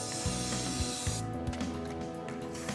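Steady hiss of cleaner sprayed onto a tool over a bath, under rhythmic mechanical clicking, close and fairly loud, with the hiss dropping away partway through.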